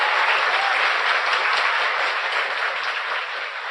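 An audience applauds, with dense, loud, continuous clapping throughout and no voices over it.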